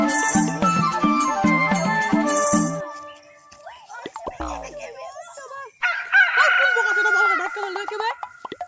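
Chickens clucking and a rooster crowing in a village setting, with repeated loud fowl calls at first, then scattered softer calls and animal sounds.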